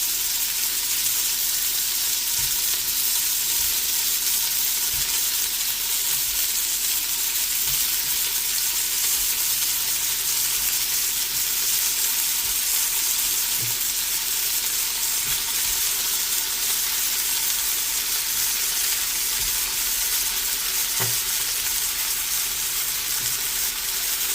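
Beef tips searing in a pot for stew, a loud continuous close sizzle with a few faint knocks and clinks.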